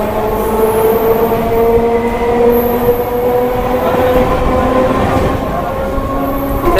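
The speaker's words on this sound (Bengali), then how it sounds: "রাজধানী এক্সপ্রেস অনেকটাই স্লো যাচ্ছে।" Rajdhani Express rolling slowly past, a loud steady rumble of wheels on rails with sustained tonal squeal and hum, heard close throughout without talk.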